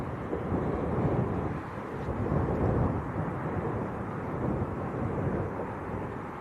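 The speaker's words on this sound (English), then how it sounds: "So this Ryanair's off to Malaga" A Ryanair plane departs Leeds Bradford Airport for Malaga on a windy day, a steady, broad roar of jet engines blended with gusty wind buffeting the microphone, sustained throughout without talk.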